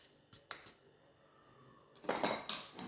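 Cake batter for a layered cake being mixed in a bowl with yeast added, a few sharp scrapes and knocks of a utensil against the bowl, then a louder burst of stirring clatter, with no talking.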